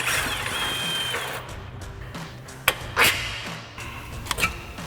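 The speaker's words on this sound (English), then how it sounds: "Now we're going to support our shock and fully remove our upper mounting bolt." A power tool backing out the upper mounting bolt of a Jeep Wrangler JL rear shock. It whirs and rattles at close range, with a few short sharp clicks and clanks near the end.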